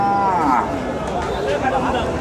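A dairy cow at a busy rural cattle market lets out a loud, drawn-out moo near the start and a shorter call later, over a dense murmur of crowd noise.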